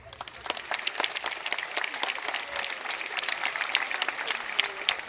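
An audience in Plovdiv claps at the opening of the 22nd International Folklore Festival, a dense, sustained round of applause from a large crowd that swells slightly and keeps going.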